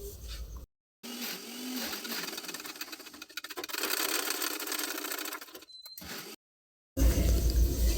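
Sewing machine stitching the side tucks of a garment at a tailoring class, a steady close whirring run broken by two short pauses, then restarting loudly at the end.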